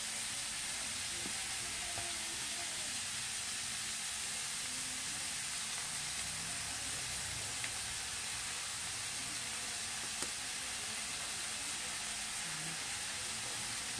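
Steady broadband sizzle of a frying pan, loud and continuous throughout with occasional small pops, as oyster sauce hits the hot pan; no one speaks.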